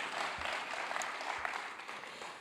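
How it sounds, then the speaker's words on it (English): Applause from a conference audience at an investment conference, a dense sustained patter of many hands clapping, moderately loud from across the room, with no speech over it. "Can we give her another round of applause"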